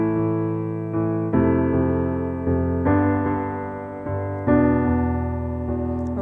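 Piano block chords struck on the first, second and fourth beats of each bar, leaving every third beat empty, ringing out full and close in a steady pattern with no voice over them.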